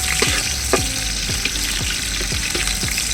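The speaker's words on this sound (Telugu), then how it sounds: "రెండు మీడియం సైజు ఆనియన్స్ కట్ చేసి వేసేసుకుంటున్నాను ఈ ఆనియన్స్ గోల్డెన్ బ్రౌన్ కలర్ వరకు ఫ్రై అయిపోవాలి" Chopped onions fry in hot oil with a steady close sizzle, broken by several short spoon scrapes and clinks against the pan, no voices.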